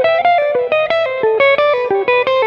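Distorted electric guitar plays a quick run of descending triad arpeggios with chromatic approach notes, evenly picked notes in a steady rhythm, loud and upfront with no talking.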